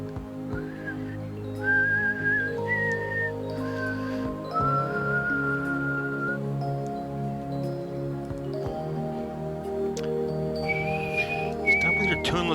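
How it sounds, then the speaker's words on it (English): A person whistles loosely and tunelessly in a series of wavering held notes with pauses between them, over a steady hum and background talk. "Continue your shitty whistling."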